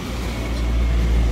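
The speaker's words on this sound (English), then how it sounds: "excuse the traffic noise" Steady low road-traffic rumble drifts in from the street beside a coffee school in Southport's Chinatown on the Gold Coast, Australia: a continuous, moderately loud wash of passing vehicles with no distinct events.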